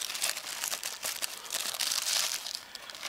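Plastic packaging around a Buffalo LinkStation Live 1 TB hard drive is crinkled and torn open, a close continuous crackling and rustling with sharp bursts throughout.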